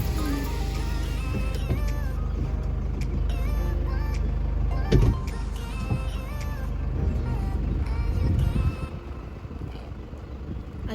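A safari vehicle on a game drive near Nairobi gives a steady engine rumble and road drone throughout, with a few knocks and rattles from the cabin and a swell of engine noise near the end, fairly close.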